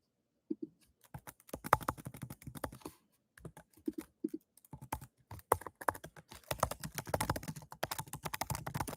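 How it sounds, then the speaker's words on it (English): Someone types on a computer keyboard in irregular bursts of close, sharp clicks, pausing briefly and then speeding into a dense flurry of keystrokes, with no voices. "My keyboard is not working."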